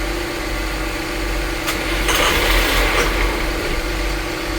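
A boat engine running rough idles steadily with a low, uneven rumble at Sabine Pass, and a few brief bursts of hiss or rattle rise over it midway through.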